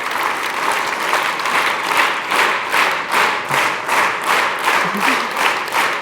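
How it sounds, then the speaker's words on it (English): A large audience claps in unison, a steady rhythmic beat of synchronized applause with about two claps per second, loud and sustained, with no voices over it. "clap together"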